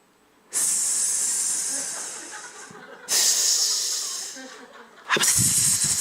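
A person imitates a snake's hiss in three long, loud, breathy hisses, each starting abruptly and fading, separated by short pauses.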